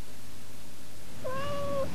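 A domestic cat gives a single clear, drawn-out meow in a 1993 Australian TV cat food commercial, heard alone after a quiet stretch.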